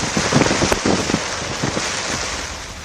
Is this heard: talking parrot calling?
no